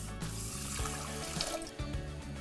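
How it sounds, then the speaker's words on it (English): Water running from a tap or poured into a pot of quinoa on a stovetop, a steady close splashing stream with a few faint clinks, heard alone. "So let's add the quinoa, add the water,"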